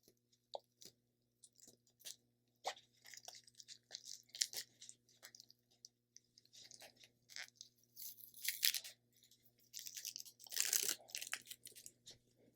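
Heat-resistant tape peels off a sequin stocking from a dollar store in a series of close, quiet crinkly rips and crackles, with irregular bursts and pauses and louder tearing near the end.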